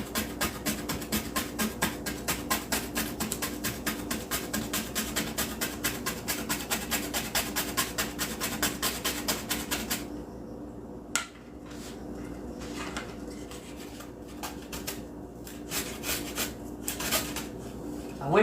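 Grating with a plastic or other non-metal grater: a fast, steady run of close, loud rasping strokes for about ten seconds, then a few scattered scrapes and knocks.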